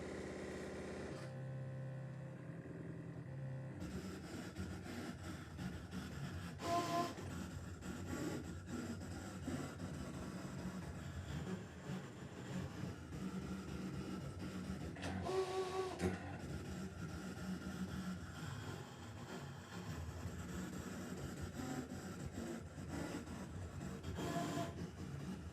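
A ScanNCut cutting machine slices fabric held on a sticky mat, making a quiet, continuous mechanical whir and shuffle with brief louder carriage movements over nearly half a minute.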